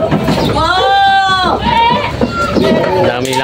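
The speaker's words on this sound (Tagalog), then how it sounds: "Dami nilang kambing dito." Goats bleat on a farm crowded with full-blood and purebred goats, with several close, wavering calls in quick succession amid farm background noise.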